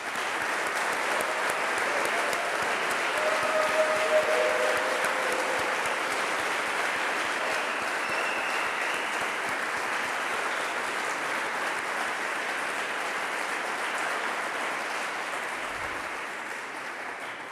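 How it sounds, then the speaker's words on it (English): An audience at the awards ceremony of the DARPA Subterranean Challenge final event claps at length, a dense, sustained wash of many hands that holds steady, then thins slightly toward the end, with no talking. "Let's do a big round of applause for all of us."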